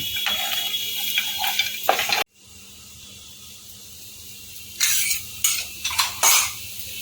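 Pasta with fried peanuts and salt is stirred in a pan, with short metallic scrapes and clinks in bursts, a sudden cutoff, a quieter stretch, then more sharp stirring strokes near the end.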